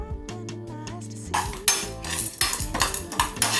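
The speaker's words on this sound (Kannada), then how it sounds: "1 ಸ್ಪೂನಷ್ಟು ಎಳ್ಳು, ಹಾಗೆ 1/4 ಸ್ಪೂನಷ್ಟು ಸಾಸಿವೆ ಮತ್ತು ಕರಿಬೇವು, ಹಾಗೆ ಹಸಿಮೆಣಸು ಇದೆಲ್ಲ ಹಾಕಿ ಚೆನ್ನಾಗಿ ಹುರ್ಕೋಬೇಕು" Sesame seeds, mustard seeds, curry leaves and green chillies stirred in a pan for ridge gourd chutney, with utensil clinks and scraping over faint sizzling and a tonal hum in the background.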